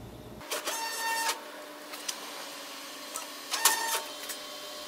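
A Creality Sermoon 3D printer at work, stepper motors whirring and buzzing in short bursts of varying pitch with brief pauses, heard up close over a steady background hum.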